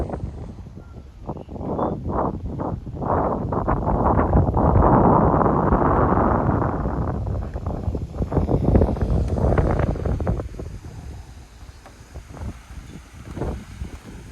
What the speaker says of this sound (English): Got a brisk wind. You can probably hear the wind.